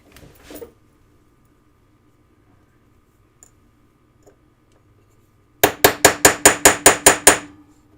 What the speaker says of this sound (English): I'm just going to take my chasing hammer and I'm going to hammer directly on there to get this to really flare out